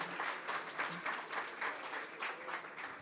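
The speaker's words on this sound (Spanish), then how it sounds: "que se escuche el aplauso como si no estuvieran borrachos" A short burst of crowd applause at a live storytelling event in Mexico City, even and dense throughout, slightly distant and fairly quiet.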